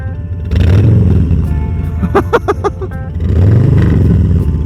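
A 2022 Harley-Davidson Softail Standard fitted with a Stage 1 kit rumbles at idle, then its engine rises in a quick rev burst before dropping back to a deep, loud, lumpy rumble.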